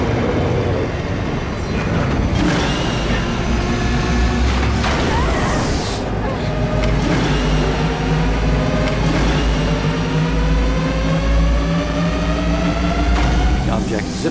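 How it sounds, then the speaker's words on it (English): A UFO-style takeoff effect: a loud engine-like drone with several rising, revving tonal sweeps that climb in pitch over a constant low rumble, building steadily throughout. "As if an engine was revving up."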